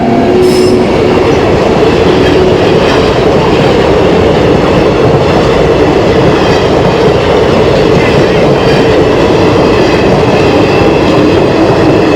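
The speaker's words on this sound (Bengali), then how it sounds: "কাসিমবাজার স্টেশনটা এই ডান দিকে এখন ট্রেন ঢুকছে" A train rolls loudly past at close range into Cossimbazar station, heard from the level crossing, a continuous heavy rumble of wheels on rails with faint squeals and clatter.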